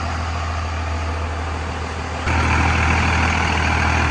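A SEMA show truck's engine running at a steady, loud, close drone that steps up to a slightly louder, rougher level about halfway through, with no talking.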